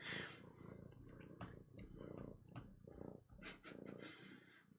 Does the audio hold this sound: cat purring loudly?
yes